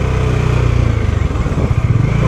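A Bajaj Dominar 400 motorcycle engine thrums loud and close while riding through city streets, a steady low rumble with slight pulsing and no speech over it.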